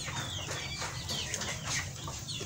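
Goliath breeder chickens cluck and squawk on a poultry farm, several birds calling over one another in a busy, close barnyard chorus with some wing flapping.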